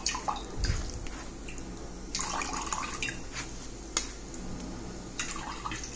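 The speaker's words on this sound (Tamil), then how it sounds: "இன்னும் கொஞ்சம் தண்ணி ஊற்றி நல்லா சாறு வர மாதிரி எடுத்துக்கோங்க." Water is poured and trickles through herbal hair dye pulp as it is strained for juice, with soft splashes and drips coming in short bursts, fairly quiet and close.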